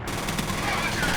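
Rapid SMG fire in the shooter game F.E.A.R.: Extraction Point, a dense continuous burst of gunfire with no talk over it.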